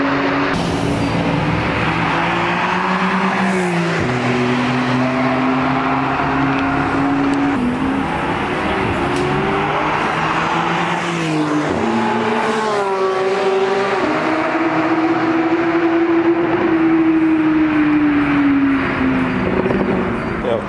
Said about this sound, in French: Il fait des tours en Panamera.